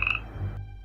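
A small frog in a rice paddy croaks in one short, loud, close burst, with a low steady hum underneath and no talking.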